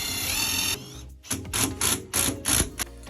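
A power driver whirs steadily as self-tapping screws are run into a Panasonic bathroom fan housing, then several short bursts of driving and clicking follow in quick succession at close range.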